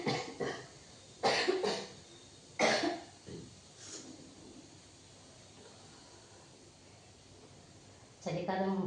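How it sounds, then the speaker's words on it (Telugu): A woman coughs from a winter cold: two or three close, sharp bursts of coughing separated by quiet stretches, followed by a softer throaty sound and then speech at the end. "అస్సలు మంచిగా జలుబు చేసింది, దగ్గు వచ్చేసింది"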